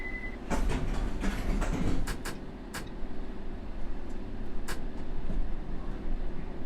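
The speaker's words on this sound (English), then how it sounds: "This train is ready to depart." Subway train rumbling and rolling off from a station in World of Subways, Circle Line, with a steady low mechanical drone and a few sharp clanks and hisses over the continuous noise.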